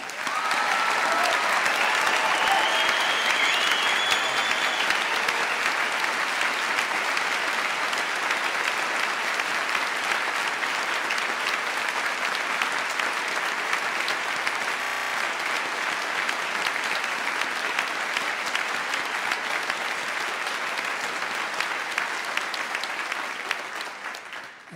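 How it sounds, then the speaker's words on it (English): Sustained, loud applause from a large crowd at a graduation ceremony, continuous clapping that holds steady for a long stretch before tapering at the end. "join me in congratulating all of our graduates with your applause."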